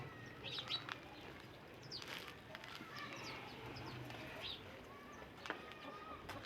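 Domestic birds such as pigeons and chickens kept at home, with soft cooing and scattered chirps and calls at a faint, distant level over a quiet background.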